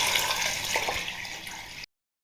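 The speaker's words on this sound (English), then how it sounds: "drown your potatoes in some H2O" Water pours into a large pot of chopped potatoes with a steady splashing rush that stops abruptly after under two seconds.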